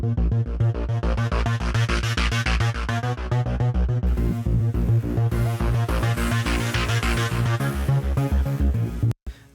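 A synthesized arpeggiator bassline from the Heavyocity Mosaic Leads instrument pulses in octaves, steady driving sixteenth-note pattern, loud and dense, ending with an abrupt cut near the end.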